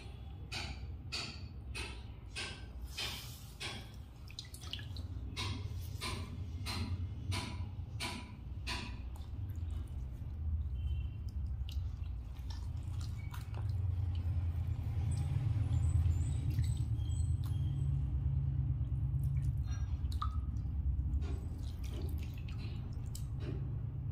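Dirty water is squeezed out of a wet sponge, close and quiet: a quick run of separate drips, then a steadier soft trickle and splashing.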